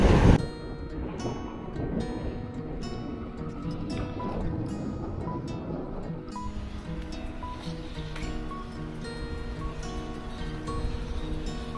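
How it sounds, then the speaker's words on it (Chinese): Stream water rushes steadily beside Sankeng Old Street in Taiwan, a loud continuous wash with no talk over it. "就能听到哗哗哗溪水的这样的一个声音"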